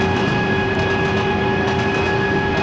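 A Brightline American bullet train rolls along in the Trainz railway simulator, giving a steady, continuous rumble of wheels on track with a faint high whine carried throughout.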